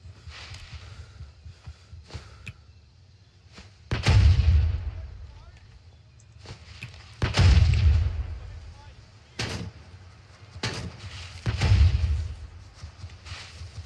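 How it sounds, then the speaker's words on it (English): Grenade blasts in the shooter Gray Zone Warfare, three heavy booming detonations a few seconds apart with low rumbling tails, scattered smaller thuds between them over a quiet background. "I'm just gonna grenade the shit out of this place"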